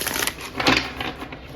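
Tarot cards shuffled by hand, a steady run of soft papery riffling and light slaps close by, continuing without pause and with no voices.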